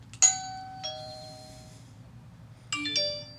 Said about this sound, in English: it is only a tritone in iOS and not a doorbell chime